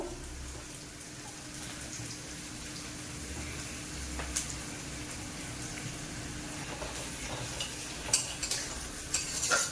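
Spiced masala for a shankar fish curry kosha fries steadily in a pan, with ground coriander and cumin in the mix, giving a continuous low sizzle with occasional stirring scrapes and clicks, close and alone.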